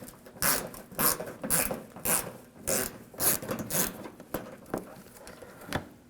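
A 7mm socket wrench ratchets out a screw beneath the front fender well of a 2007-2013 BMW 328i, giving close, crisp clicking bursts in a steady repeating rhythm of about ten strokes.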